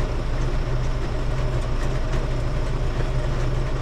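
A John Deere 6000 Highboy sprayer engine running with no muffler, exhaust on a straight pipe out the bottom, gives a loud, steady low rumble that holds without a break, close by and with no voices.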